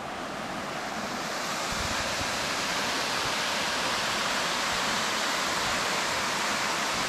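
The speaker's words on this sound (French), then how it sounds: "je vais essayer d'aller derrière la cascade là-bas" A waterfall in the Jura mountains roars as a loud, unbroken rush of falling water, close by and steady throughout, with no voices.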